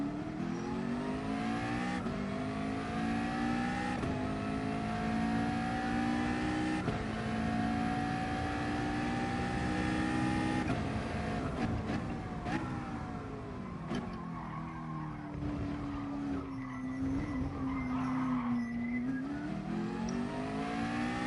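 A McLaren 650S in Gran Turismo Sport races with a steady, loud engine drone. It climbs in pitch through repeated gear changes and sweeping revs, with no break in the sound.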